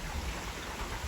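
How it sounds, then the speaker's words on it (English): Steady rain falls during a Texas rainstorm, a dense even hiss of drops close by with no voices. "the rain finally came in"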